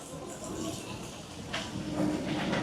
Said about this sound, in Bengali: দেখো ট্রেন আসছে একটা